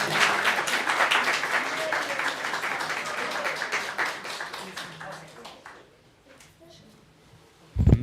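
Congregation applause for pageant participants at a Buddhist Dharma family service fills the first five seconds, then thins to scattered claps and fades nearly to silence before a brief thump near the end.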